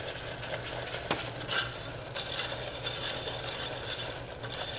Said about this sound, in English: now we're gonna whisk in the butter until it's well incorporated